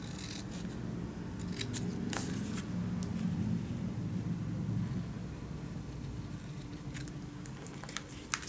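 Scissors snipping paper for a Christmas scrapbook mini album, a handful of quick crisp cuts scattered over a steady low room rumble, close and fairly quiet.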